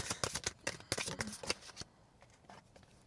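Moonology oracle cards shuffle close by in quick riffling bursts for nearly two seconds, then fall to near quiet with a few soft card sounds.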